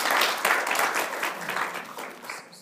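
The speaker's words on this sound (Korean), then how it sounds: "우리가 환영의 박수 하겠습니다" A church congregation claps in welcome for a first-time visitor, a dense, steady burst of applause that holds for a couple of seconds and then tapers off toward the end.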